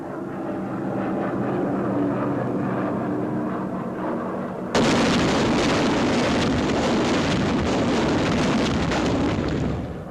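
Jellied gasoline incendiary bombs, M69 type, falling and bursting during a wartime air raid: a steady aircraft drone, then a sudden loud, dense roar of explosions and fire that holds for several seconds.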